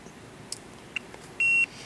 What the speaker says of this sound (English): So it just beeped to record the highest voltage that it's just seen.